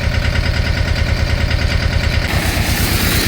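Tractor engine running in a muddy pomegranate orchard, a loud close rhythmic diesel chug that holds steady, with a harsher shift in tone near the end and no voices.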